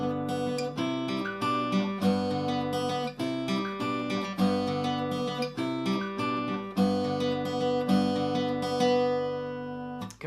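Full-speed guitar rendition of a song's intro, rapid fingerpicked notes cycling over a steady bass pattern, clear and close with no voices, ending on a ringing note.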